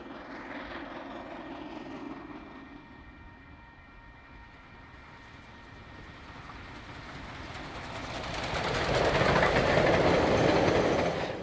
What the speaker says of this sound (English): Mainline Steam's JA 1275 sprints south through Taupiri after an early morning departure from Papakura.